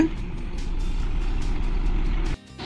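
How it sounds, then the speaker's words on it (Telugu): A Volvo multi-axle bus pulls out of a garage in Hyderabad, its engine giving a steady low rumble with rhythmic faint beeping over it, then dropping off sharply near the end. "మన బస్సు హైదరాబాద్ దుండగల్ గ్యారేజ్ నుంచి బయలుదేరడం జరుగుతుందండి"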